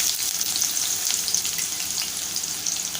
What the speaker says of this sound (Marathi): एक 2 मिनिटं आपण कांदा छान तेलामध्ये परतून घेऊया